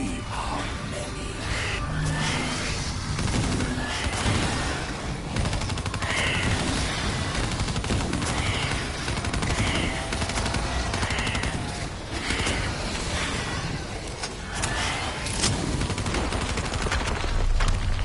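Video game machine gun fire, dense rapid bursts and booming shots layered with chaotic battle noise, continuous and loud across the whole stretch with no speech.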